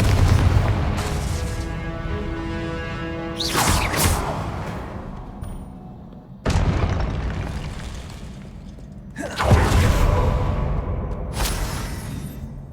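Confringo spell blasts in the video game Hogwarts Legacy, loud booming explosions that erupt twice at a steady pace, each followed by a long crackling, rumbling decay.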